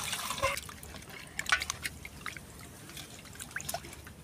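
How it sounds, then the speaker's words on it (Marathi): Fish being rinsed with water in a plate, giving soft trickling and dripping splashes with a few brief louder spills, close and fairly quiet, with no talking. "जमलं आता आपण मच्छी धुवून घेऊ।"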